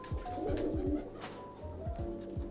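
Deoband pigeons coo in a run of low, throaty calls, several overlapping close by with brief pauses between them and a soft higher chirp now and then.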